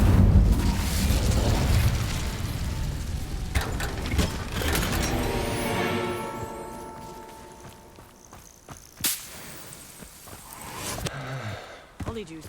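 Incendio fire spell cast in the Hogwarts Legacy video game, a loud whooshing fiery burst with booming rumble that fades into crackling and clanking effects, a voice speaking briefly amid the game sounds.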